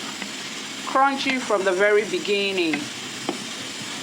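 Steady crackling hiss of fries frying in hot oil, continuing underneath a person talking for part of the time.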